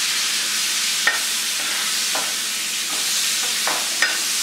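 Konkani-style pomfret frying on a tawa, a steady close hiss of sizzling oil with a few soft scrapes and taps as the fish is turned.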